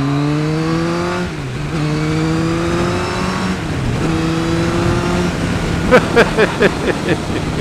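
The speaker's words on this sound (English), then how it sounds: "Isn't that lovely when you can just pull a bloody bike back?" A motorbike engine revs hard as the rider opens the throttle on a ride home, its tone climbing and dropping through several pulls, with a run of sharp exhaust pops near the end. It stays loud and close throughout, with no talk.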